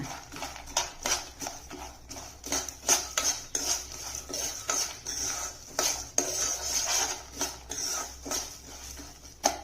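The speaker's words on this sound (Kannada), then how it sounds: "ಇವಾಗ ಈ ಕಡಲೆಕಾಯಿ ಬೀಜನ ಹುರಿಯೋಣ" Peanuts dry-roasting in a pan for moringa-leaf chutney powder, stirred with a metal spoon: irregular scraping and clinking strokes over a faint rattle of nuts, close and fairly quiet, with no talking.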